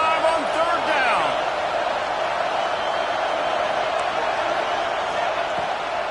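Ohio State Buckeyes home stadium crowd roaring on a third down in a football game against Penn State, a steady wide wall of distant cheering and noise held throughout, with a broadcaster's voice briefly over it at the start.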